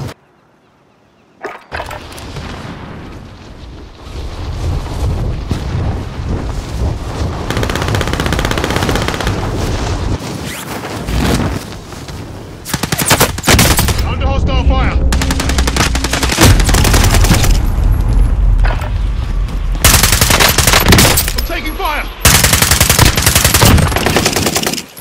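Rapid automatic gunfire and bursts of shots in the Call of Duty video game, loud and sustained for most of the stretch with brief pauses and a few heavier impacts.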